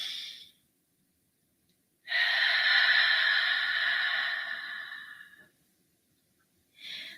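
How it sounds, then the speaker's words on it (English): A deep, slow cleansing breath: a short exhale fades out, then after a pause a long, airy breath out trails off over several seconds, followed by the start of another breath, close and quiet with no speech. "The ah is the nice cleansing breath."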